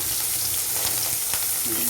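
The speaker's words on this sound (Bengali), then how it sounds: "চিংড়ি মাছগুলো ওর পাশে দিয়ে দিলাম ভাজা হয়ে যাবে" Prawns sizzle in hot oil with a constant crackling hiss, close by, and a couple of soft stirring scrapes.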